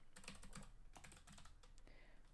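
Quick keystrokes clatter on a computer keyboard in an uneven run of close, soft taps at low volume, with no talking.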